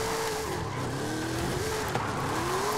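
Stock Toyota Tacoma TRD with a manual gearbox drifting, engine note wavering up and down steadily with continuous tire squeal, loud and close throughout.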